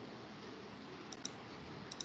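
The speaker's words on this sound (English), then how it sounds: "opening a new notepad, there I am typing" Light clicks of typing on a computer keyboard while a new Notepad file is being written, a few soft taps standing out over a steady background hiss.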